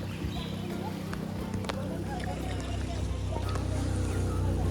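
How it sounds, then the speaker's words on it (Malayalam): A boat passes on the Thriprayar river, its low engine drone rumbling steadily and growing slightly louder across the clip, with faint voices nearby. "നമ്മളെ വെട്ടിച്ചൊരു ബോട്ട് പോവാണത്."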